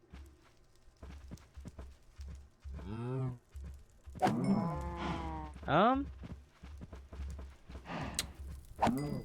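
Several cows moo in the blocky farm world of Minecraft during a hardcore survival game, long drawn-out calls overlapping one another, some close and loud and others softer, over a steady low game hum.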